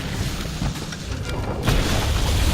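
Anjanath, a monster in Monster Hunter World, breathes fire in a loud, rumbling boom that roars continuously, then swells heavier partway through.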